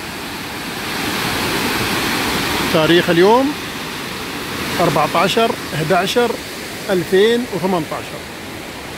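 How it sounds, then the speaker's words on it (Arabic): A waterfall in the town of Füssen, Germany, roars as a steady, loud broadband rush throughout, while someone talks over it. "هذا شلال مدينة فيوسن الألمانية."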